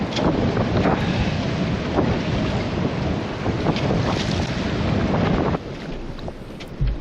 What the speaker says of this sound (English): The winds were 20 miles an hour, gusting to 34 miles an hour.